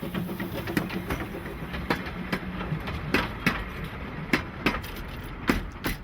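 Steam locomotive on the Launceston Steam Railway in Cornwall hauling a train of holidaymakers, heard as a steady rumble with sharp rhythmic clanks and knocks recurring about every second, fairly close, with no talking.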